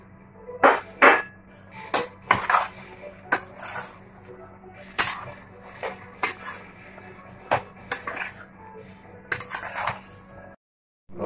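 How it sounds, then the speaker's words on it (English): A utensil scrapes and clinks against a pan as tofu is mixed with pepper and salt, giving irregular metallic taps and clatters at close range, with soft background hum and no speech. "Halo-haloin na lang natin siya."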